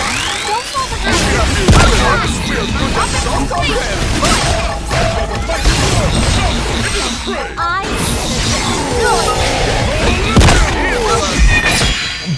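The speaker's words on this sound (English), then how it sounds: "Bro, what is with all the explosions?" Explosions in the game Xenoblade Chronicles X, a dense continuous barrage of booms, crashes and whooshing blasts, loud and constant throughout, with a player's voice talking over it.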